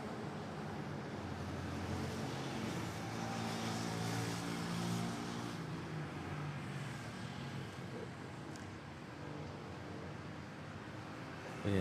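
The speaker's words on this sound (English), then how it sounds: "We have a Cebu Pacific arriving from Katiklan, A320neo." A Cebu Pacific Airbus A320neo arriving at Manila airport, a broad steady engine roar with low droning tones, heard from a distance and fading slightly toward the end.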